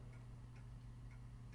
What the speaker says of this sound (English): Maybe the ticking of a clock? The clock hands? I just hear a clock